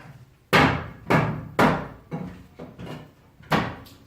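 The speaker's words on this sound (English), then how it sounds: "So these are just held in with some nails. Mallet gets them out pretty easily." A mallet knocks nail-held wooden slats out of a board in a workshop: six sharp, woody thuds, close and fairly evenly spaced, each fading quickly into a quiet room.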